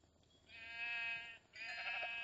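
Sheep bleating in the Minecraft video game, two drawn-out nasal bleats in quick succession, clear and fairly quiet with no talking.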